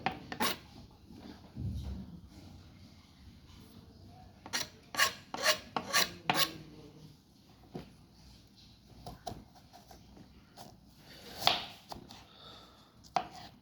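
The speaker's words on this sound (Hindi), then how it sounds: "अब जनाब गाजर छील लिया, उसकी कटिंग कर रहा हूँ।" A sharp knife slices peeled carrots into cubes on a cutting board, giving a run of close, crisp chopping strokes in quick bursts with short pauses between them.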